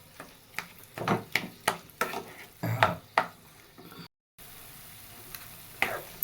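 Grated carrots for gajar halwa are stirred and sautéed in a pan, with a series of close, rhythmic scraping strokes over a soft sizzle, then a brief gap and a quieter steady frying hiss.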